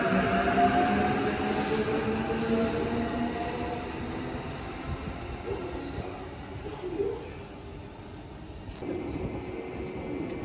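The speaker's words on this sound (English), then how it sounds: "Our limited express train is leaving." A JR E353 limited express train pulls away from a station with a steady mechanical rumble, fading gradually as it departs, with faint squeals and brief chimes from the station.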